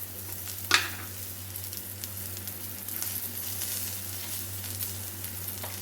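Green chilli sautéing in hot oil for a black gram chutney, a soft continuous sizzle with one sharp crackling spit near the start and light stirring scrapes beneath, fairly quiet and close.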